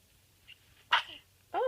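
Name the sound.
sneeze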